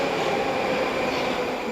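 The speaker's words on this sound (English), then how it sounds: "Back in Moscow on our train ride" A Moscow metro train rolls along with a loud, continuous rumble and hum of wheels and carriage noise filling the car, no voices standing out.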